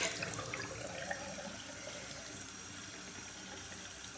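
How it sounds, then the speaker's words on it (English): Water runs steadily from a sink tap during face rinsing, a soft continuous splashing stream close by, with no talking. "I usually don't wash my face at the sink."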